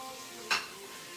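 Shrimp added to a pan of fresh tomato sauce, a soft ongoing sizzle with one short, sharp hissing burst and a faint utensil scrape.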